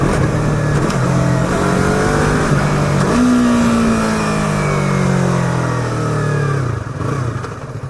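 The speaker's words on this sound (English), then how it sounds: "Cars are just whizzing by." Cars whizz past on a Texas highway, heard from a Yamaha R3 motorcycle. Loud, continuous road and wind roar fills the clip, with an engine pitch that rises and then falls as a vehicle goes by. No one speaks.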